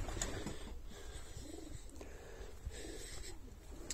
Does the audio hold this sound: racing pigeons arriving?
yes